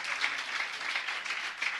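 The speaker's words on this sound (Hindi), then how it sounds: "आप लोग अपनी तालियों के अवदान से इनका अभिनंदन कर दीजिए बंधु" A gathered audience at a Jain religious discourse claps steadily to welcome a guest, a dense wash of hand claps at moderate distance with no talk.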